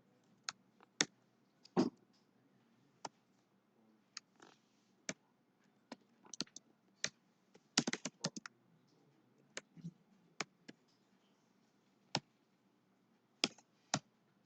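Sparse, quiet keystrokes on a computer keyboard while C# code is typed, irregular single clicks and short clusters spread across a near-silent background.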